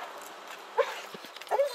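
Outdoors in falling snow, a dog lets out two short whimpering yips, the second followed by a brief high whine, against a quiet background.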